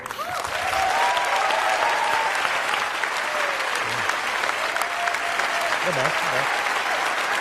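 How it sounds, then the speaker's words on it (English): A TED talk audience breaks into loud, sustained applause that stays strong and even throughout, with voices and brief calls mixed in. "Big applause."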